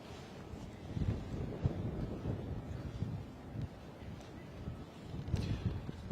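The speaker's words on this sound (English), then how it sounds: "Wind is definitely getting up a bit." Wind at London City Airport buffeting an outdoor microphone, a low rumbling roar that swells and gusts unevenly, close and fairly loud, with no other clear sounds.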